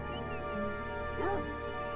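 A dog in the video game Beyond Eyes gives a single brief bark, fairly faint against a steady tonal game soundtrack.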